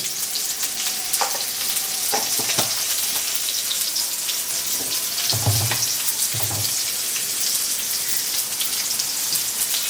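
Potatoes frying with turmeric and salt for a village-style egg curry, heard as a steady close hiss of oil sizzling with rain-like crackle, broken by a few dull stirring knocks, no talk.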